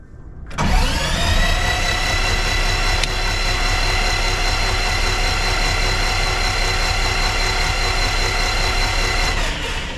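A steady, loud mechanical whir runs almost unbroken for about nine seconds as the engine is cranked over on its starter to build oil pressure, starting abruptly and cutting off near the end.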